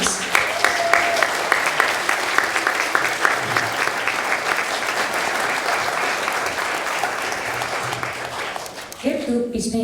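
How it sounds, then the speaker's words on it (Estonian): Applause at an art school's spring concert and graduation ceremony, with a full room of steady, crisp clapping that fades near the end as a voice begins speaking. "Aplaus."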